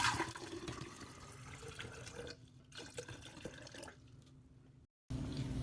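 Water pours from a container into an empty glass set on paper, a steady close liquid splash and trickle running for several seconds before a brief cutoff.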